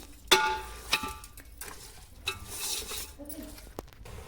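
Country chicken sambar being stirred on the stove, soft scraping and a few sharp clinks of a spoon against the pot, with faint sizzling between the strokes.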